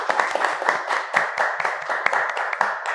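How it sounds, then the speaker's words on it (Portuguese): A small studio audience claps to welcome guests onto a talk show, crisp rhythmic hand claps from a few people, close and fairly loud, with no talking. "Uma salva de palmas e receber meus convidados aqui."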